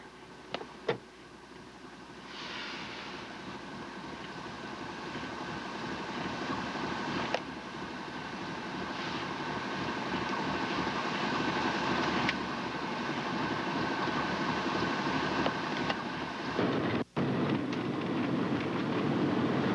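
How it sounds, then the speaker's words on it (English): A military helicopter's broad rumbling roar grows steadily louder over about twenty seconds as it flies low nearby, with wind noise mixed in and no voices. "It's a military helicopter right down in front of me."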